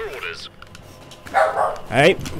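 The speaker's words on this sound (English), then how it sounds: "that is a dog in the background." A dog barks in the background behind a person talking, with a couple of sharp yaps coming through over the speech.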